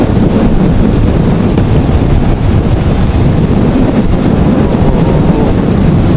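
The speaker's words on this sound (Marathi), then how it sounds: "त्या हवेमुळे लाटांचा वेगळा फवारा उडतोय" Strong wind roars across the microphone on the coast near Dhanushkodi, with sea waves surging underneath in a loud, continuous wash and no voices.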